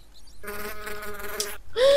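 Minecraft bees make a dense insect-like buzzing that drones steadily and fairly loud, then briefly cuts out before a rising whine returns near the end.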